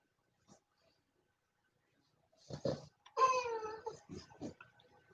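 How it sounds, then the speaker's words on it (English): Bulldogs whine and whimper nearby in a quiet room, a faint early yelp followed by a cluster of high, wavering cries and shorter whimpers toward the end. "I hope you can't hear these bulldogs whining."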